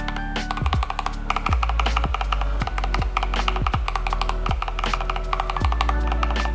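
Rapid, crisp clicks of an AKKO 3098B mechanical keyboard fitted with AKKO Starfish switches being pressed in quick succession, close and clear, with no voices.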